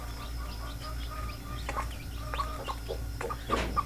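Several short, high peeps from newly hatched native chicks scattered over a steady low background hum, fairly close, growing a little more frequent toward the end.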